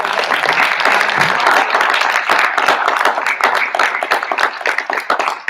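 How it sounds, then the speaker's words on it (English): An audience at a high school speech team recognition night applauds four-year team members, with dense, sustained clapping from many hands that holds at a steady level for several seconds before thinning slightly near the end. "give them a huge round of applause"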